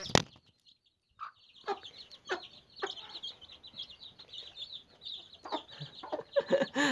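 A mother hen with fifteen chicks clucks softly and repeatedly nearby while the chicks peep in high, rapid chirps, with occasional rustling and a louder burst near the end.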